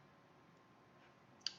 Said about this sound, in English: I'm going to hit D on the keyboard.